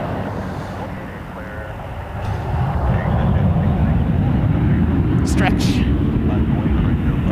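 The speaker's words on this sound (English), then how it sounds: "Looks like Eva Air will be taxiing out this way soon. Cargo, that is. They are now cleared for takeoff." A cargo plane operated by Eva Air takes off at Toronto Pearson Airport, its broad, rumbling engine roar swelling after a couple of seconds and holding steady and loud, with a person speaking briefly over it.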